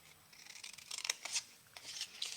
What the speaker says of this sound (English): I'm going to snip up to, from the bottom up to that 1 inch scored line on each of those